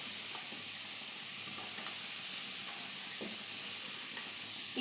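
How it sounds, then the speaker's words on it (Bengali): Carrots sizzle in a hot pan while being stirred, a steady close frying hiss with light scraping stir strokes breaking through at intervals, no voices. "ততক্ষণে আমি এটাকে একটু গাজরটাকে নেড়ে নিই।"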